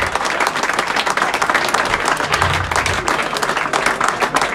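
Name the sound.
crowd applause for a rugby player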